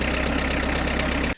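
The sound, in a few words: diesel engine running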